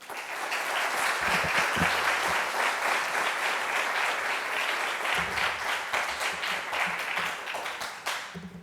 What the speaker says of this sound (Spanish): los despedimos con un aplauso